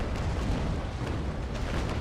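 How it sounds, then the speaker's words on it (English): Cannon broadside in the naval combat game Naval Action, a dense, continuous rumble of heavy booms rolling together at steady loudness with no talk. "4 cannons, come on, and fire"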